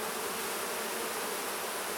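Honey bees buzz steadily on a hive frame during a mite count, a dense, close, continuous drone filling the whole moment with no voices.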